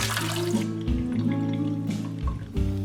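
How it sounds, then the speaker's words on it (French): Vermicelli noodles draining in a kitchen sink, with water trickling and dripping steadily at close range and no voice present. "J'égoutte les vermicelles."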